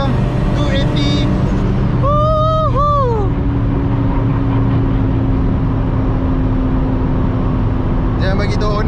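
Nissan Skyline GT-R R34 with 600 hp cruising at around 280 km/h in sixth gear on a highway, a steady loud engine and wind drone filling the cabin, with a voice speaking briefly over it.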